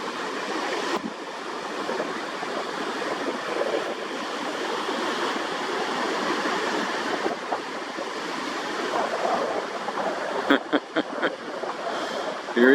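An animal wades through water, a steady wash of splashing and rushing water filling the scene at moderate loudness, with a few sharper splashes near the end.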